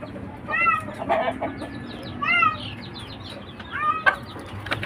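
A skittish domestic chicken clucks in short, bright bursts, three or four separate calls spread over a few seconds, close by over a steady outdoor background hiss; no one speaks.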